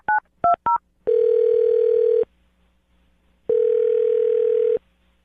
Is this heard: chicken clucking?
no